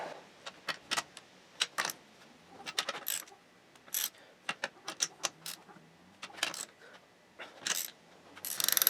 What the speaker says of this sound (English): Torque wrench in it.